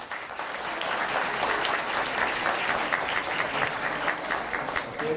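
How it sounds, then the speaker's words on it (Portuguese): Steady, full audience applause at a signing ceremony for a secretary's swearing-in, continuous even clapping from a crowd filling the room throughout with no letup. "Podemos aplaudir."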